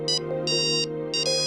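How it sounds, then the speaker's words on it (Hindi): An electronic phone ringtone rings out in three clear, repeated bursts over a steady tone, loud and close, with no talking. "तुम्हारा फोन।"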